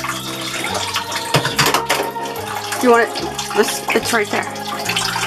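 Tap water runs into a bathtub being filled for bathing Macy the dog at home, a steady splashing stream under intermittent nearby talk and clattering, with a brief squeaky yelp-like sound in the middle.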